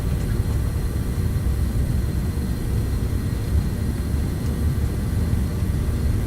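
Jet engines of an MD-80 airliner in Microsoft Flight Simulator spool up to takeoff power, a steady, loud, dense roar with a broad rumbling low end, no talk over it.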